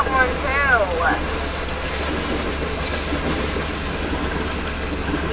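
A BNSF freight tanker train rolls past on rails with a steady low rumble and clattering wheels, and a brief chirping squeal rises and falls near the start.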